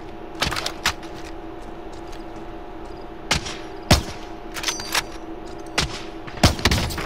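Gunfire in a video game, scattered sharp shots and short bursts at irregular intervals, some near and loud, over a steady low hum with no talking.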